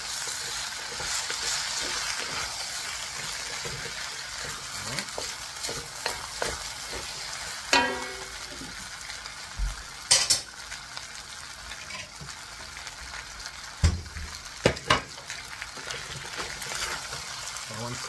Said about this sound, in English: always, always stir fry it